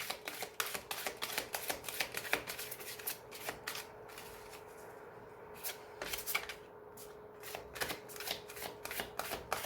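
Oracle cards shuffled for a reading, a long stretch of rapid, crisp riffling and slapping close by, with a brief quieter pause midway before the shuffling resumes.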